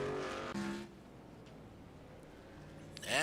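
Short Track Superleague race trucks on a short circuit: a loud engine pass fades out early, a quieter stretch of distant running follows, then another truck roars in close and revving at the end.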